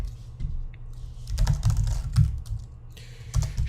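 Code is typed on a computer keyboard in quick, uneven clusters of close, crisp key clicks, with a brief lull before another flurry of keystrokes.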